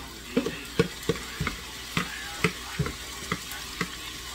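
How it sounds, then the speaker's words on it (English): Squash and tomatoes tumble into a pan of cooking zucchini for a casserole, a run of sharp clattering knocks and stirring scrapes spaced about every half second over a low sizzle. "I'm going to add my squash and my tomatoes"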